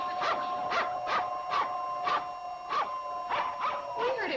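A dog barks repeatedly in a steady rhythm, about eight sharp, moderately loud barks over a faint background tone in a television comedy scene.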